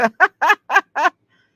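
A pet turkey-like fowl calls out in five loud, evenly spaced gobbling bursts close by, with nothing else around it.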